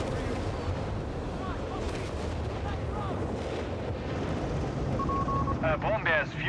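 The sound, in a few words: Nebelwerfer rocket artillery fire in video game Company of Heroes 3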